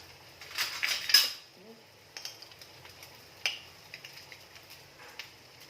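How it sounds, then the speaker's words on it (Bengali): Plates being taken out and handled in a home kitchen, giving close, sharp clinks and knocks of crockery and cutlery, loudest at the start and then in scattered bursts. Someone talks over the clatter. "প্লেট বের করে দিচ্ছি।"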